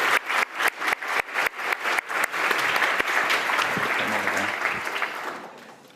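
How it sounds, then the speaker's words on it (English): Crowd at a university game programming lab final presentation applauding third-place award winners, starting with a few rhythmic claps, then swelling into dense, close applause that fades out. "Big round of applause for third place jury award"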